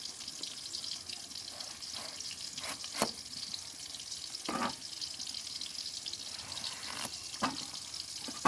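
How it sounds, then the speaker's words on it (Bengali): Fish fries in a pan with a steady hissing sizzle, broken by sharp pops and crackles, and no voices over it. "ওইদিকে মাছ ভাজার জন্য তুলে দিয়েছি"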